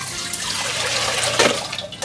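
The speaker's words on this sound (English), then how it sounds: "Now we'll just fill it up with water." Water runs from a tap into a cooking pot, a steady loud rushing and splashing that holds throughout the short stretch, with no talking.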